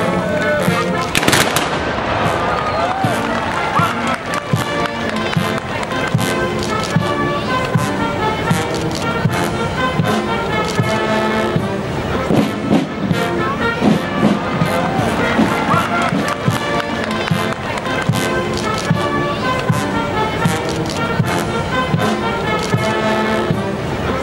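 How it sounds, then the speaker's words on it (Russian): 200-year-old muskets fire in a loud, dense outdoor stretch of cracks and booms at a historical military display, overlapping with crowd noise. "А 200-летние мушкеты до сих пор исправны и готовы к стрельбе."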